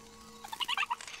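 A little bird in the game Snake Pass gives a quick run of bright chirping, warbling notes, brief and clear against a quiet background.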